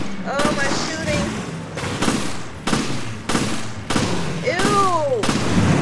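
Gunfire in the video game Resident Evil Revelations, a series of loud, sharp shots spaced about a second apart, each with a short decay, over a steady background with game effects.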